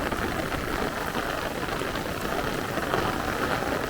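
Heavy downpour during a thunderstorm squall line in Brooklyn, New York: a loud, dense, unbroken roar of rain hissing steadily throughout, with no voices.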